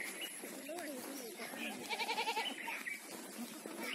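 A goat bleats a few times outdoors in green farmland, the short wavering cries rising over steady background noise.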